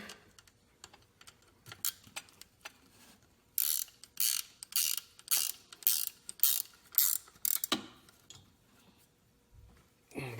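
A ratchet wrench with a 13 mm socket tightens a bolt on a belt tensioner in a car engine bay, giving a quick run of sharp, evenly spaced clicks mid-clip, close and with no talking.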